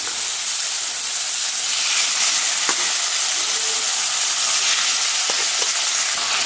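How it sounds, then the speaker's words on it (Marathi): Marinated mutton mince fries in ghee, giving a loud, steady, close sizzle with occasional light clicks of a spoon stirring through it. "तर याला आपण आता मस्त फ्राय करून घेऊ, भाजून घेऊ या तुपामध्ये"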